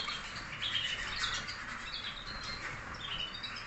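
Many small caged birds in breeding cages chirp and tweet continuously in a busy, overlapping chorus, fairly close and steady throughout with no talking.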